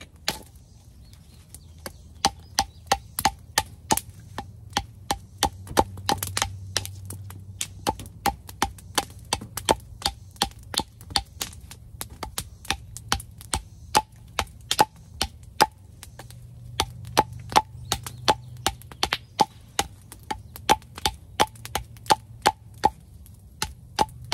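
An Architect AK 6.5 bushcraft knife chops into wood with many sharp, crisp strikes in a steady, fairly quick rhythm, close and clear, with no talking.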